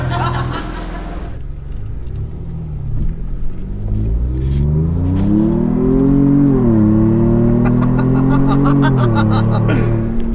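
A deep Flowmaster exhaust rumbles as a 6x6 truck engine revs repeatedly, rising and settling in pitch, with light laughter and chatter audible on top.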